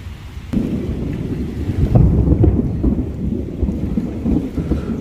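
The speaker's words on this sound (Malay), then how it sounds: "seperti sahabat dengar petirnya sungguh dahsyat sahabat" Steady heavy rain in Singapore with a deep, rolling rumble of thunder building after the first second and continuing under the downpour.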